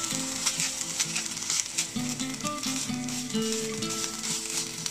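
Rice sizzles as it fries in oil in a frying pan, a steady close hiss with occasional stirring scrapes throughout, with no voices.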